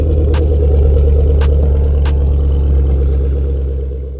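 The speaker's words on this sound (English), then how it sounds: "let me go ahead and give y'all a cold start, man, of this beast, Black Beauty" A Chrysler Crossfire engine idles steadily right after a cold start, with a loud, close, continuous low rumble and a few brief clicks and ticks over it.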